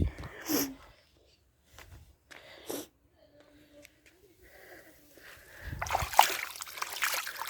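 Bay leaves being washed in village pond water at the bank, with intermittent small splashes and dribbles, quiet gaps between, and a louder sloshing rinse toward the end.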